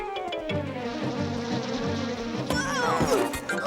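A cartoon honeybee buzzes steadily over an insect-themed children's cartoon scene, a continuous droning hum with music running beneath it, the buzz swelling briefly near the end.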